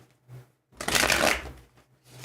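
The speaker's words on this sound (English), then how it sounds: "let's shuffle these cards here" A deck of tarot cards is shuffled once in a quick riffle, a close, crisp burst of flapping card edges lasting under a second, with quiet room sound and a faint low hum before and after.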